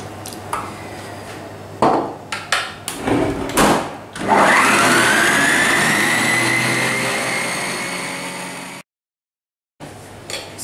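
A stand mixer whips sponge cake batter flavored with orange zest, starting after scattered clinks and knocks, then a loud whirring rise that slowly fades over several seconds before cutting off, followed by light handling noises.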